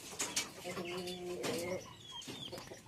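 Faint, low clucking and soft cooing from a few hens, with quiet murmuring voices in the background.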